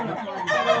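Black native chickens with a rooster clucking nearby, short soft calls over a steady farmyard background.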